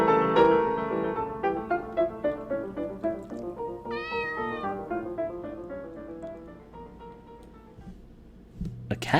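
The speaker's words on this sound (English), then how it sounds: "A cat's voice." A cat meows repeatedly in a quiet indoor space, several short tonal cries in an uneven series, heard over sustained instrumental music.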